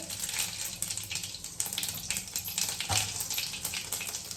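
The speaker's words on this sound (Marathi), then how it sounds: "तेल गरम झालं, आता जिरे टाकले." Cumin seeds hiss and crackle in hot oil in a pan, a loud, continuous close sizzle with dense popping that holds steady throughout and has no talking.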